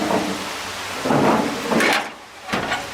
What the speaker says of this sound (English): if it really starts to rain here, which is getting heavy